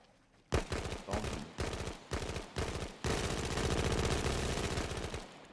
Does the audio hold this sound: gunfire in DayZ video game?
yes